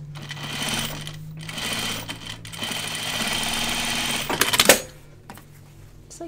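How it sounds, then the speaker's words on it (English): A sewing machine topstitches a fabric dopp kit, running in loud rapid bursts broken by brief pauses, with a clattering flurry near the end before it quiets. "I'm going to top stitch this down"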